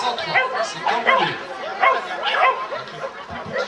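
A small dog yaps repeatedly at an agility competition in Obernai, its high, quick barks mixed with people chatting nearby.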